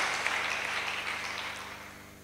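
Applause for Jesus fills a church, a short burst of dense clapping that fades gradually toward the end.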